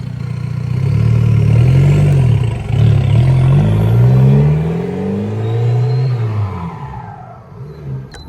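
A VW Jetta TDI ALH diesel fitted with an 8-inch exhaust stack drives nearby and revs repeatedly, its deep throaty roar rising and falling in several strong pulls with wind noise underneath.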